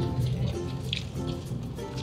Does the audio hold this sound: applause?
no